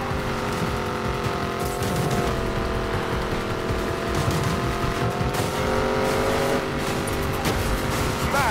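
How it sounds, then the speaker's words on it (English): A video game car engine hums and growls steadily throughout, its pitch wavering slightly as it revs, with no voices. "You know when you step on the gas and the engine growls to life for a second?"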